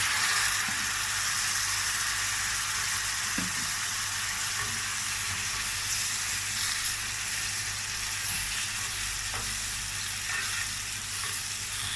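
Constant loud sizzling and crackling of coarsely chopped tomatoes frying over onions in a hot pan, with a few faint clinks, steady throughout with no talking.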